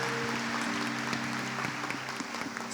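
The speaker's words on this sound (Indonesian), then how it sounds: "tepuk tangan dulu untuk Tuhan Yesus yang luar biasa" Church congregation applauding together, a steady, moderately loud rush of clapping over a sustained musical drone, with no speech on top.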